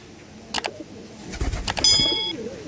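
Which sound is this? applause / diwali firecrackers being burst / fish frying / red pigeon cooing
red pigeon cooing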